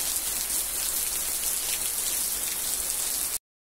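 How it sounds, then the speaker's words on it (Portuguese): Heavy rain pours down steadily on a rural smallholding, a loud, dense, unbroken wash of drops hitting surfaces that cuts out abruptly near the end. "Nossa, Deus, foi tanta chuva do nada,"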